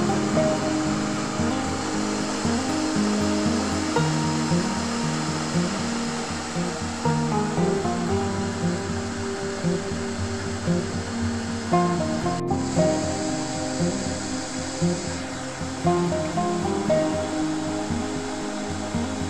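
A Zokop electric tea kettle heats water with a continuous rushing hiss and soft, uneven bubbling rumble that stays fairly steady, heard close and alone.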